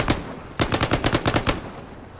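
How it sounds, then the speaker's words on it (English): Sten gun fire in Hell Let Loose: a short burst near the start, then a longer rapid automatic string of about nine close, loud shots before fading out. "This is the Sten gun."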